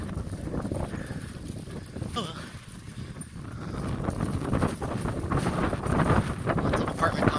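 Steady wind buffets the microphone with a rumbling roar that grows stronger toward the end during a bike ride in Ibaraki, Osaka, Japan, while a voice talks faintly underneath.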